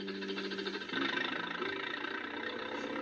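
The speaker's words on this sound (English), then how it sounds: "Suddenly, the tractor roared to life." A tractor engine starts and roars, a steady mid-pitched rumble with a knocking idle texture that stays fairly loud and continuous throughout, close by with no talk.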